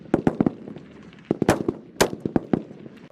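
Rifle fire on a range during Marine rifle qualification: sharp, loud gunshots in irregular bursts, several shooters firing close together with brief pauses between volleys.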